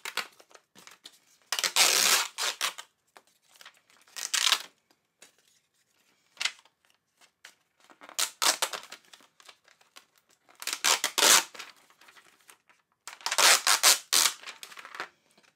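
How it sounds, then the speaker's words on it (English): An Infusible Ink transfer sheet, already weeded, cracked along its cut lines and peeled, giving close bursts of crisp crinkling and tearing separated by short quiet gaps. "I'm just going to crack it all the way around where it's cut. And you will hear it crack."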